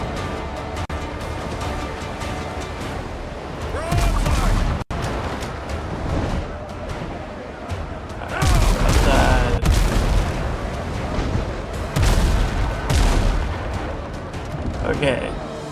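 Ship cannons firing at Blackbeard's ships in the pirate video game WindRose, loud booming blasts that come in a few separate volleys over rumbling background action, with a voice heard between shots.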